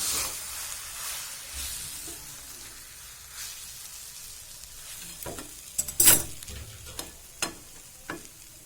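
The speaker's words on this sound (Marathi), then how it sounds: "खालचा वर, वरचा खाली असा करत राहायचं मधून मधून." Jhunka made with chival greens sizzles in a pan while being stirred, a steady hiss broken by several sharp scraping clicks of the spatula, close and fairly loud, with no talking.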